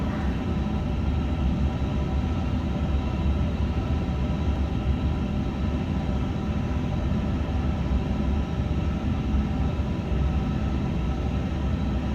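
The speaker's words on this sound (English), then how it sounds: "And the engine is starting." Engine start on an Airbus A350-1000 jet airliner after pushback, heard as a steady, dense broadband roar and rumble at constant loudness throughout, with no audible talk.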